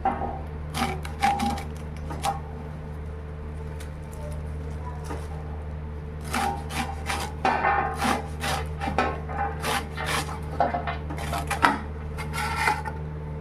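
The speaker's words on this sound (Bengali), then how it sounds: "আমি এখানে লাল শাকগুলোকে কেটে নেব আমি হেসোতে কাটছি" Red amaranth greens being cut with a sickle: clusters of crisp chopping and rubbing strokes, intermittent and close, over a constant low background hum, with no talk.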